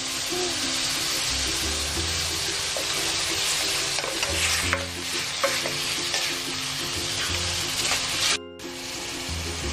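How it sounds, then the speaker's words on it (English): Shrimp sizzle steadily in a hot pan while being stirred, with repeated scraping and clinking of a utensil against the pan and a brief drop-out near the end, for pancit with shrimp and vegetables; no talking. "Let's throw in our shrimp."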